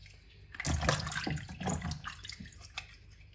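Meat pieces are rinsed by hand under running water, a close splashing and trickling with faint rubbing and dripping, no talking.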